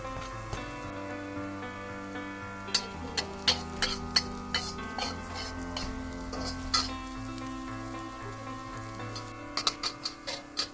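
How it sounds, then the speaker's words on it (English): Garlic and chili fry in hot oil in a wok, a quiet steady sizzle with scattered sharp ticks and taps from a utensil against the pan. "Heat the wok up, add some oil and get ready to fry the garlic and chili."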